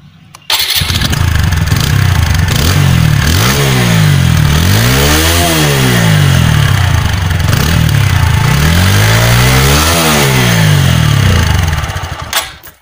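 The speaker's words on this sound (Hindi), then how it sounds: "तो आइए आप इसका एक एग्जॉस्ट का साउंड सुन लें।" A new TVS Apache RTR 160 4V motorcycle with a double-barrel silencer starts and revs loudly up close, its exhaust note rising and falling through several throttle blips over a steady idle.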